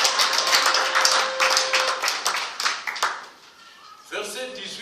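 Church congregation clapping in rapid, loud bursts and calling out acclaim, with voices mixed in; the clapping fades out near the end and a louder voice returns.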